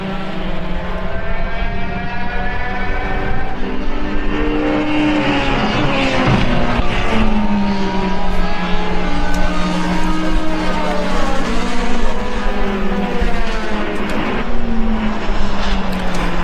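Formula 3 single-seater race cars from different periods howl past on the Brno circuit, a loud continuous engine roar with rising and falling pitch sweeps as cars accelerate and pass, filling the whole span without pause.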